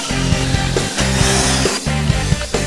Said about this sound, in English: Now it's time to drill the hole.